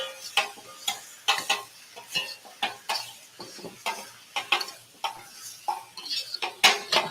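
Fried rice with onions and mushrooms being stirred in a hot pan: a steady run of scraping, clinking strokes over a soft sizzle, close and fairly loud, with no voices.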